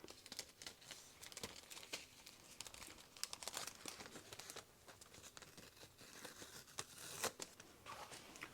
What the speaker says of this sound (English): So just going to pull off the little tape.